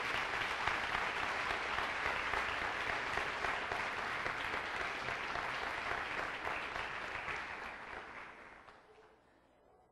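Sustained applause from a church congregation, a dense, even wash of clapping that holds for several seconds and then tapers off near the end.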